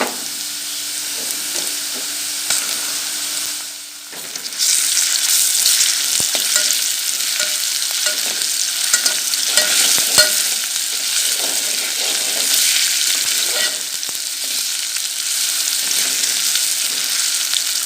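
Garlic and onion sizzle and fry steadily in a hot pan with an intermittent scraping stir, close and continuous, no voices.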